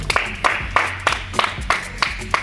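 Rhythmic group clapping from an audience at a comedy sketch of a village meeting, a steady beat of about four claps per second, loud and close, without talk.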